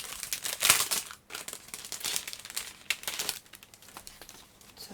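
Paper crinkles and rustles up close as a swap package is opened, a steady run of crackling handling sounds with a brief pause partway through, no voices over it.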